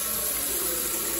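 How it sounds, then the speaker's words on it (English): Water gushes from an outdoor tap into a bucket in a steady, continuous rushing stream, close and loud throughout. "Fill it up with some water."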